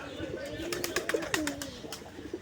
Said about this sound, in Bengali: যে গাছে বসে আছে কিছু কবুতর